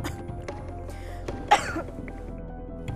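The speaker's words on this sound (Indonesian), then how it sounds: "Apalagi kalau malam, batuknya tuh gak berhenti dan saya gak bisa tidur." A woman with a persistent cough lets out one sharp, close cough with a rough throaty tail, set against a quiet indoor room with faint low background hum.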